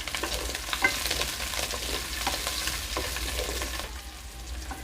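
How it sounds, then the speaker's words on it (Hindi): Onions and chillies fry and sizzle steadily in a pan while being stirred, with scraping bursts over a continuous close hiss and no talking. "इसको चलाते रहेंगे जब तक प्याज ब्राउन ना हो जाए।"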